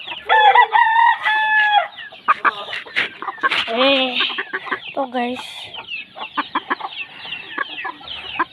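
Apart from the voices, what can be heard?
chicken clucking and crowing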